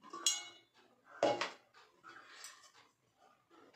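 A new non-stick kadai being handled, with a few faint metallic clanks and light knocks, quiet and close, with no talking.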